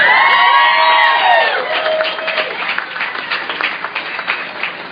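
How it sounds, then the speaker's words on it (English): A crowd claps and cheers loudly, with whoops at the start, then the applause carries on at a slightly lower level. "I think that warrants another round of applause"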